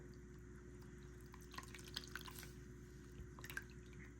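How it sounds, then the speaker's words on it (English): Water drips and trickles softly while shampoo is rinsed out of a Barbie doll's hair, with scattered small splashes over a quiet hum, faint and close. "Just gonna rinse out the rest of that shampoo"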